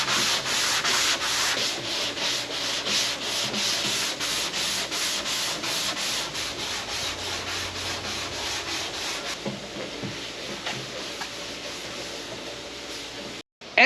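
Paint being hand sanded with a flat sanding block and 180 grit paper, making steady back-and-forth rasping strokes, close and loud, that continue evenly throughout before softening near the end.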